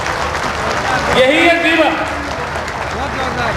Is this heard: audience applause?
yes